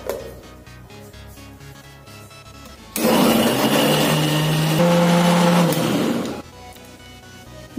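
A mixer grinder whirs loudly for a few seconds grinding oranges with sugar and water after a quieter stretch, then cuts off abruptly, leaving faint background noise.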